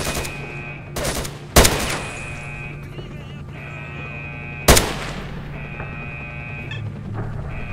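Gunfire comes through a wall in STALKER: Shadow of Chernobyl with the AMK mod, two loud sharp shots and a few lighter cracks over a humming ambient drone.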